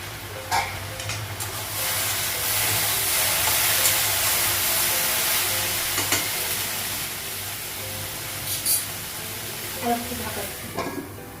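Food sizzles steadily in a pan on a gas stove, a continuous close frying hiss with a few clinks of utensils stirring.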